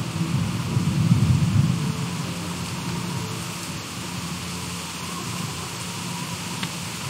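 Low rumble of a thunderstorm swells over the first two seconds, then settles into a steady hiss of rain in a Walking Dead game scene, with no talking.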